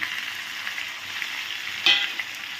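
Vegetables with turmeric, salt and sugar sauté in a pan, giving a dense continuous sizzle with a brief louder hiss and scrape near the end, close and steady without voices.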